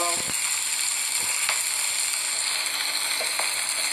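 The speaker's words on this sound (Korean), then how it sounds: "들기름에 새우 올렸어요" Freshwater shrimp frying in perilla oil for a herb fritter: a steady, close sizzling hiss with scattered small pops and crackles throughout.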